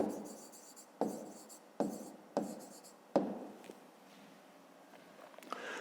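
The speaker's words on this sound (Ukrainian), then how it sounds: "тоді записуємо відповідь" A pen writes on paper in quick separate strokes, about five crisp scratching bursts each fading quickly, close and quiet, followed by lighter scribbles near the end.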